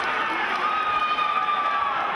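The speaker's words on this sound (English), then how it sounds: "A big right hand lands on the side of the head of Troyer, and the crowd erupts." A crowd at a live MMA bout, the Bodog Fight card with John Turner facing Troyer, roars steadily right after a heavy punch lands, a dense, loud wash of cheering and shouting that holds for a couple of seconds.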